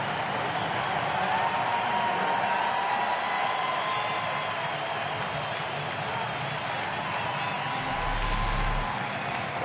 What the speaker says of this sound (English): they're already cheering for him.